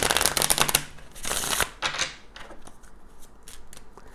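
Kipper Oracle tarot cards being shuffled in close, crisp riffling bursts, two long flurries followed by softer scattered flicks and taps, with no voices.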